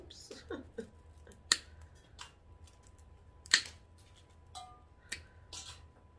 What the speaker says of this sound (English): I'm going to do a little trimming right here because I don't like how long that is.